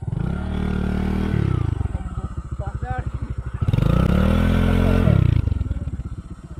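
Motorcycle being maneuvered on rough ground in a village, loud close engine revving in repeated bursts with rattling and clatter between them, while people talk over it.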